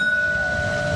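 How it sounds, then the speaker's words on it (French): A Saint-Étienne tramway bell sounds a steady, ringing tone over the low rumble of the tram, brief and fairly close. "Retour au chaud dans le tramway, avec toujours cette cloche qui résonne affectueusement aux oreilles des Stéphanois."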